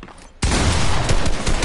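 Rapid gunfire bursts out in a shooter video game, a sudden loud volley that starts after a brief quiet moment and continues densely with sharp cracks to the end.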